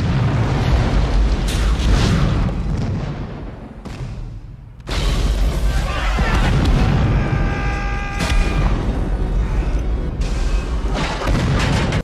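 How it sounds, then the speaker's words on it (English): A building blowing up in the action film Die Hard: a loud, sustained rumbling explosion with roaring debris, a brief dip near the middle, then a renewed heavy blast that keeps thundering to the end. "he goes down the building as it blows the fuck up"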